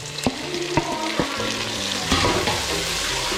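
Tomatoes go into onions frying in a pan for Kerala-style fish curry: a loud, continuous sizzle with a few sharp scraping stirs and clatters near the start.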